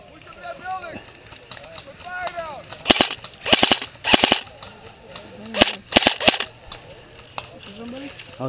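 A gun fires several sharp blank shots in quick bursts, three clustered reports followed by another group, with people talking before and between them.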